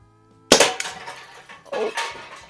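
Crosman 44 Peacemaker air revolver, a vintage 1976-81 pellet gun, fired outdoors at cans and targets: one sharp, loud crack followed by a decaying tail, then a second fainter impact a little over a second later.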